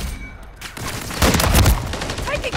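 Call of Duty gunfire bursts out loudly in the middle, a rapid cluster of shots and a heavy impact over quieter background game sounds, with faint game voice callouts around it.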